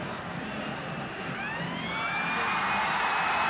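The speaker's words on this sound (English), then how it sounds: "The siren is gone, but the referee doesn't realise it." A rising electronic siren wail at a rugby league stadium, Newcastle Knights v Manly Sea Eagles, 1990, swells over a noisy crowd, growing louder as it sustains.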